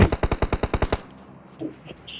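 Rapid automatic gunfire in PUBG Mobile, about ten evenly spaced loud shots in a one-second burst, followed by quieter scattered game sounds.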